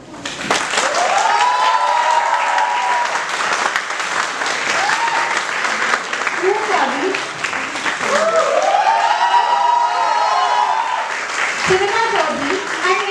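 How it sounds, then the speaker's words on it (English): Sustained applause from a large audience for award recipients at a school investiture ceremony, dense clapping lasting the whole stretch while an announcer's voice carries over it. "Please give a huge round of applause for the outstanding members of Abhinay."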